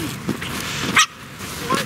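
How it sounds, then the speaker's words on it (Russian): A dog, apparently a Pomeranian spitz, on a spring walk near a riverside bridge gives a few short barks and yips close by, spread across the moment with a sharper burst in the middle; a person talks over it. "Есть у нас и такие собачки"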